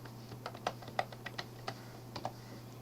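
Quiet keystrokes on a computer keyboard as text is entered in AutoCAD: a short, uneven burst of individual key taps over a steady low hum, with no voice.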